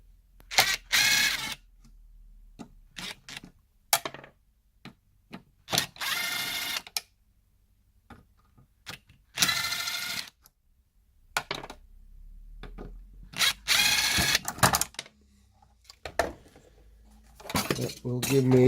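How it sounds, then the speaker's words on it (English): Small bolts are taken out of a vintage RC car chassis during restoration, heard as scattered close clicks, ratcheting and metallic rattles in short bursts separated by quiet gaps. "What I'll do is I'll just take these 4 bolts out."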